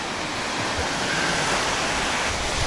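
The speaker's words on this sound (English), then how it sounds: "You can see some of the waves are coming in on this way, and some of the waves are coming in on that way." Baltic Sea waves wash in steadily at the tip of Latvia, a continuous broad roar of surf with some wind noise on the microphone.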